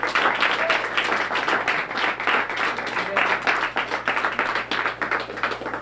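Steady, dense audience applause fills an awards ceremony room for several seconds, many hands clapping in a rapid even rhythm at close range with no one speaking.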